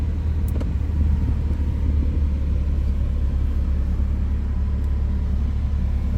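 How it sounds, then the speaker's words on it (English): A 2018 MINI Countryman 2.0 Cooper S automatic runs with a steady low engine rumble close by, holding an even level throughout with a couple of faint clicks near the start. "When you put your foot on the brake, this lights up. Starts the vehicle."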